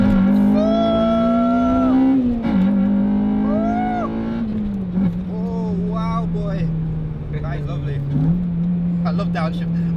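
A Honda Civic Type R engine drones at a steady, fairly loud pitch that dips briefly a few times, as with throttle blips on downshifts, while people talk over it throughout.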